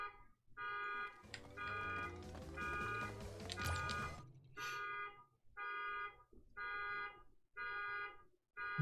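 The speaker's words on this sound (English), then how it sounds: "Car alarm going off outside, sorry." A car alarm blares from outside, cycling through wailing siren sweeps and then repeated short electronic honks in a steady rhythm.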